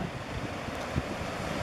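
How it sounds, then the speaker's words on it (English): Ocean waves wash against the harbor's edge in Guam, a steady surf roar mixed with gusting wind buffeting the microphone, one slightly stronger surge near the middle. "here we are on the ocean's edge in Guam"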